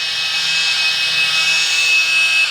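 A cordless polisher on low speed spreads polish across car paint, giving a steady high-pitched motor whine with a soft rubbing undertone, close and continuous for a couple of seconds.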